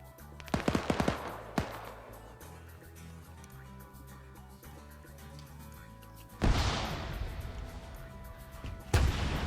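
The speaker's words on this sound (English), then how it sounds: "AT firing into the building" Gunfire and heavy weapon blasts in a combat video game as an anti-tank weapon fires into a building, with bursts of shots early on, then two loud booming impacts near the end over a steady low background.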